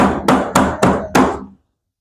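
An upturned tray of steamed besan dhokla is tapped to release it, four quick, close knocks with a short resonant ring, then silence.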